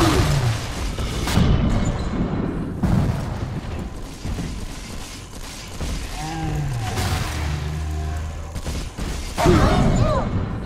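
Gunfire in Bioshock 2 crackles out in a few sharp, loud bursts amid mechanical clanks and booming impacts, with a gap of quieter ambience between volleys.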